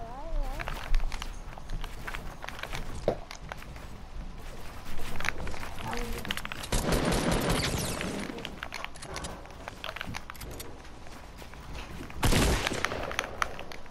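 Gunfire in a shooting video game, with scattered bursts and a couple of louder booms mixed with footsteps and game noise, while voices talk over it.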